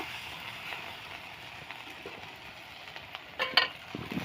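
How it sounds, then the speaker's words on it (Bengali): Salted spice masala sizzles softly in a pan while being stirred, a faint steady crackle broken by a few sharper scrapes and clinks near the end. "তারপর মশলাটাকে ভালো করে কষিয়ে নেব।"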